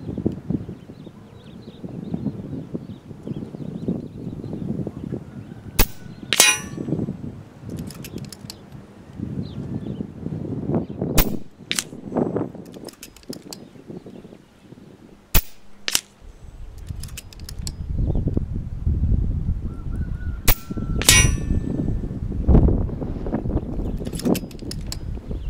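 Air rifle firing H&N 21-grain .217 slugs at long-range targets of 100 to 210 metres outdoors, sharp isolated cracks spaced several seconds apart over steady wind noise.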